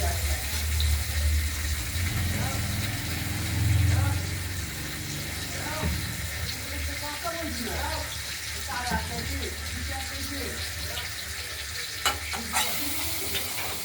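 Potatoes fry in oil with spices for a fish curry, a constant sizzle with stirring scrapes and occasional clatter, while a voice speaks intermittently over the cooking.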